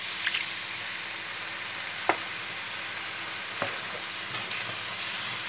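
Potato curry sizzles in a pan after water is added, a steady, moderate hiss broken by a few faint clicks and scrapes of stirring.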